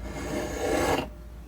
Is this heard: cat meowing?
no